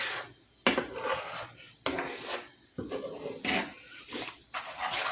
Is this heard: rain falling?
no